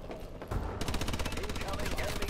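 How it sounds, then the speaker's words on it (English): Rapid, loud gunfire from a video game, with a single shot followed by a fast repeating burst of shots. "You're using a sniper rifle."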